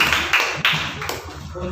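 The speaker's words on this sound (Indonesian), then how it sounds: "tepuk tangan untuk 3 kelompok" A classroom group claps for three student groups during a teaching session. The claps come as a few quick, loud, rhythmic bursts over about two seconds.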